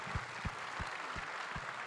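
Applause rises from a large summit crowd for the staff, a faint, steady wash of clapping with several soft low thumps spaced through it and no voices over it.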